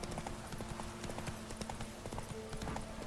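Horse hooves clip-clop in a steady, quick rhythm as a rider travels in The Witcher III video game, the repeated thuds fairly close and continuous over ambient game sound.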